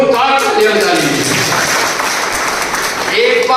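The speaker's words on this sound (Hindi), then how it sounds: "आप जोरदार तालियां बजाइए।" A large audience at a public programme breaks into loud, sustained applause, a dense wash of clapping filling the whole stretch, with voices mixed in beneath it.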